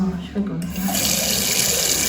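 Water pours steadily from a touch-free sensor tap into a sink, starting after a short pause and continuing as a constant hiss, with someone speaking briefly over the start.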